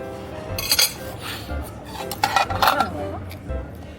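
Cutlery scrapes and clinks on a plate while cutting Czech roast pork knuckle at a Prague restaurant, in short close bursts as people talk quietly.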